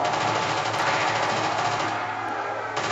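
A machine gun fires in Call of Duty Nazi Zombies on the Der Riese map, a dense, loud, rapid rattle of continuous shots that runs for a few seconds and then stops abruptly.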